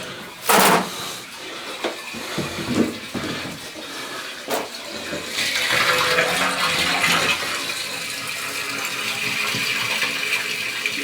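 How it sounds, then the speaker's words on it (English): A toilet flushes after its clogged main drain stack was snaked, with a sustained rush of draining water that swells midway and continues steadily, preceded by a few short knocks and clatters nearby. "It's definitely a good flush, or good sound."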